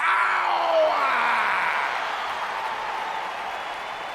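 A wrestling arena crowd in WWE 2K20 roars and applauds in a broad, continuous wash of cheering, loud and sustained, with a rising tone sweeping through at the start before the noise slowly eases.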